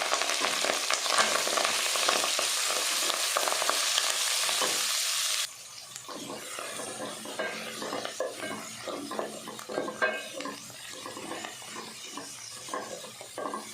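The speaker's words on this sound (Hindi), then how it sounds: "मेथी को हम 2 से 3 मिनट अच्छे से पका लेते हैं।" Fenugreek leaves sizzle and crackle in a hot pan with ginger-garlic paste, loud at first and then quieter, with the scrape and clink of stirring.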